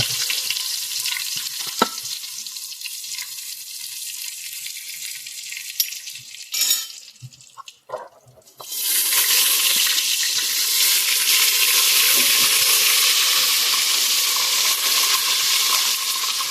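Curry leaves hit hot oil for misal. After a quieter stretch with a few clatters, a sudden loud, hissing sizzle bursts out and keeps going strongly to the end.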